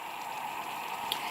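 Hot water for oats simmering in a pot on a hot plate, a steady close hiss of bubbling with faint crackles and one small pop, no voices.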